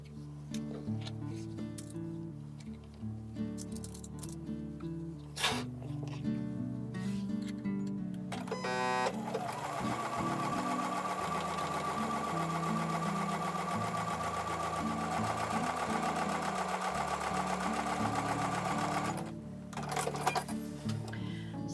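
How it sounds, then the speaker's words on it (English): A sewing machine stitches quarter-inch seams along both sides of a drawn line on half-square triangle quilt block pieces, running in one steady, loud burr for about ten seconds after a stretch of other sounds. "we're basically going to start by making half square triangles by sewing a 1/4-inch seam on either side of the drawn line"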